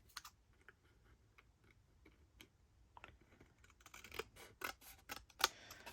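Scissors snipping paper for a junk journal cover, a run of small crisp clicks and cuts, sparse at first and then faster and louder in the last seconds, close by with no talking.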